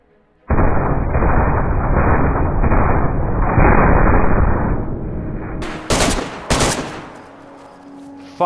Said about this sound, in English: He's trying to get me with a shotty.